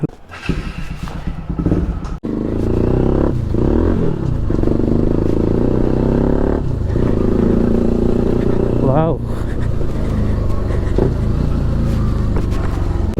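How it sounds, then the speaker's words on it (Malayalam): A Bajaj Pulsar NS200 motorcycle with a modified exhaust rumbles nearby and revs briefly, with a voice speaking over the steady engine note and a short gap partway through. "അപ്പോൾ എന്തായാലും നമുക്ക് ആ ഒരു എക്സോസ്റ്റ് നോട്ട് DB സെറ്റ് ചെയ്തിട്ടുണ്ട്."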